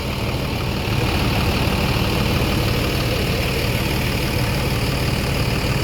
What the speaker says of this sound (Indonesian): inilah unit dari PO Palala, unit terbaru yang menggunakan bodi dari Adi Putro dan mesin 1526 NG ya.